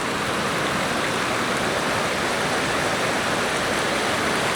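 Clear, almost blue stream water flowing steadily in a remote spot, a continuous broadband rush that stays loud and even throughout, with no voices over it.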